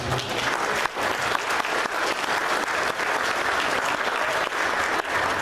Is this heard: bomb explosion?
no